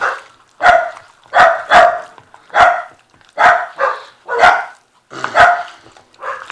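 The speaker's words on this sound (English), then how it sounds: "Forgive my dog for barking." A dog barking in a kitchen, about nine loud close barks in an uneven series, some doubled, with brief pauses between and no speech.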